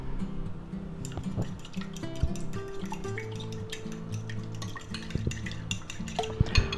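Eggs are beaten with milk in a bowl while preparing chicken fried steak, a quick clinking of a utensil against the dish in a busy, uneven rhythm, close and alone.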